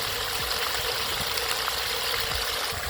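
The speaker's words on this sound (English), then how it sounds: "the new sprayer seems to be distributing the water much better than before" Water sprays and splashes steadily from a new sprayer on a DIY power sluice box for gold prospecting, a constant close hissing rush with no voices over it.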